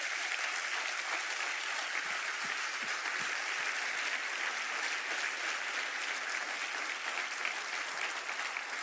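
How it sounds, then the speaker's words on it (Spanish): Sustained applause from a church congregation at a morning service, a steady dense wash of many hands clapping that holds evenly for the whole stretch at moderate distance. "levantamos un aplauso de alabanza a nuestro Padre"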